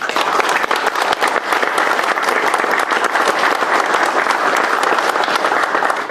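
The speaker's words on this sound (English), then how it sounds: "How about a big round of applause?" A crowd at a state amateur golf tournament gives sustained, loud applause for the tournament staff, dense clapping that holds steady throughout without voices on top.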